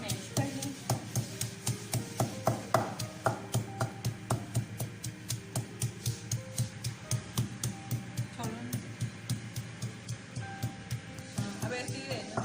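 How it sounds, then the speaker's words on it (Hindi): Chicken is lightly mashed with spices for a chicken toast, making a steady run of crisp, evenly spaced taps and knocks, about two or three per second, that continues close and moderately loud for around twelve seconds. "चिकन को हल्का सा मैश कर लें।"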